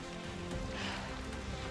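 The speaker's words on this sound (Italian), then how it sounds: "si è messo pure a piovere" Steady rain falls on a mountain trekking trail in the Dolomites, giving a dense, even hiss of drops that holds unchanged throughout, close and fairly loud.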